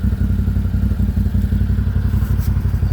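A 2023 CFMOTO 1000 Overland four-wheeler engine runs steadily after cranking, a close, loud, even low rumble with rapid rhythmic pulsing and light mechanical clatter throughout.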